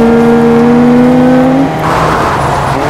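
A video-game car's engine hums at a steady pitch, then cuts into a rougher, whooshing roar as the car pulls away from a gas station, loud and close throughout.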